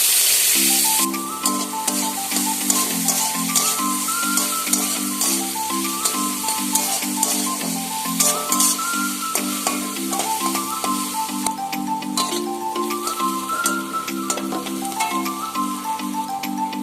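Chopped onions fry in oil tempered with dried red chilli, bay leaf, cumin and a little sugar, a steady sizzle running under prominent melodic background music for the whole stretch.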